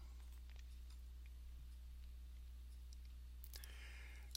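A computer mouse clicks a few times, faint and sparse, over a steady low hum in a quiet room while installing software on Windows 7.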